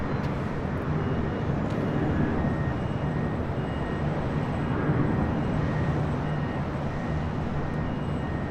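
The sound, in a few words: heavy airliners arriving at Los Angeles airport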